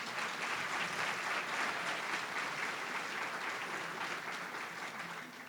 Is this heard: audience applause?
yes